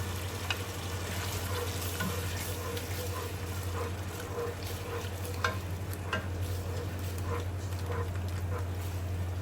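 Onion sizzles gently in ghee for hilsa pulao, a steady low frying hiss broken by faint stirring scrapes, with a constant hum underneath.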